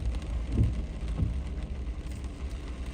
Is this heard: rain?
yes